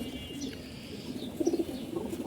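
Pigeons coo with a steady, low murmuring warble that swells and repeats throughout, close by, with faint chirps and a constant background hum.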